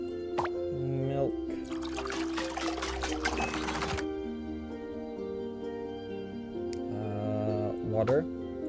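Milk poured in The Witch's Bakery game, a bright splashing gush lasting about two and a half seconds over steady background music, with a voice speaking briefly before it.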